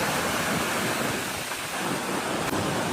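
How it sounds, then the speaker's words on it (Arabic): Sea waves washing steadily onto the shore of an uncrowded beach in Africa, a continuous broadband wash of surf with a slight dip partway through and no voices. "وتسمع الصوت ديال الامواج"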